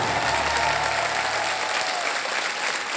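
Studio audience applauding a band on a televised Hindi game show, a dense, steady roar of clapping that fills the whole stretch at even loudness with no voices over it.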